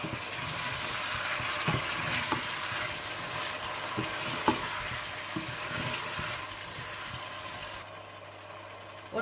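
Minced meat with ginger, garlic and tomatoes sizzles and fries in a pan while a spoon stirs it, adding occasional scrapes and clinks. The frying stays loud and close throughout, then fades near the end.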